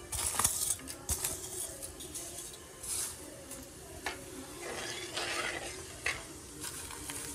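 Fenugreek seeds dropped into hot peanut oil for tempering a tomato pickle, giving a soft continuous sizzle with scraping stirs and light clinks of a utensil against the pan, fairly quiet and close.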